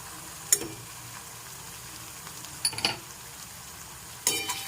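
A spice masala with Kashmiri chilli powder, hot chilli powder and turmeric is fried and stirred in a pan for a Lote fish curry, with three brief scraping stirs and a soft steady sizzle between them.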